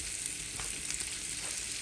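Microwaved potatoes fry in a pan for home fries, giving a steady, close sizzle and crackle of hot oil with faint stirring and no voices.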